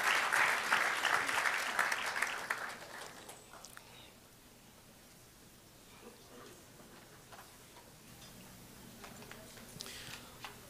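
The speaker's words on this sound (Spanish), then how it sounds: "Un aplauso para el Señor" Congregation in a Bronx worship service bursts into loud crowd applause that fades out after about three seconds, leaving a quiet room with scattered faint claps and murmurs later.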